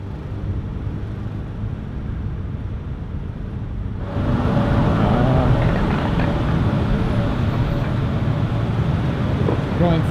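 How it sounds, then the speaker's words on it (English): A motorbike taxi weaves through heavy Bangkok traffic, its engine and the surrounding road roar forming a steady wash that swells louder about halfway through as it moves close in among the vehicles. "the advantages of riding on these motorcycles is you can cut through traffic."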